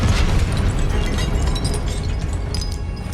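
A Confringo blasting spell explodes in Hogwarts Legacy during an Ancient Titan boss battle, a loud, dense burst of booming noise with crackling debris that stays intense across the whole moment.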